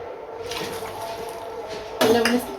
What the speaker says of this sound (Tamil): நம்ம ஒரு கப் அளவுக்கு வெள்ளத்துக்கு மூணு கப் அளவுக்கு தண்ணி வந்து சேர்த்துக்கலாம்